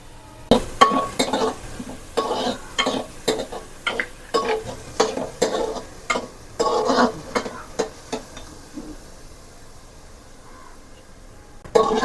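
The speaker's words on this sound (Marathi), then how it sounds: "आपण कांदा शिजून घेऊया." Two onions stirred and cooking in a pan for paneer pav bhaji, a run of repeated scraping stir strokes with light sizzle underneath, close and steady, tapering off near the end.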